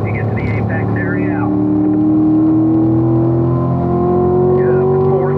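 Corvette V8 engine on a track rolling back onto the throttle, a loud droning note rising steadily in pitch as it pulls out of a corner, with an instructor's voice talking over it at the start and end.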